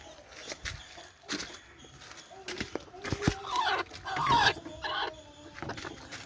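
Chickens in a coop give off scattered clucks and brief squawks at moderate to faint volume, with rustling and irregular bursts of movement around them.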